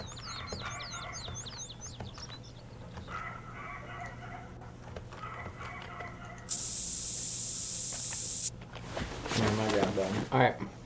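Spray being applied in a Canada goose hunting video game, a steady loud hiss lasting about two seconds that cuts in after bird chirps and ambient game noise, followed by muffled rustling.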